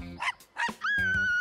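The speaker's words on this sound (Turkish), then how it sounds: "Köpek havlamasıyla herkese korkuttu." A lost dog barks and yips, two short sharp barks followed by a longer whining, drawn-out bark, loud and close with no talking over it.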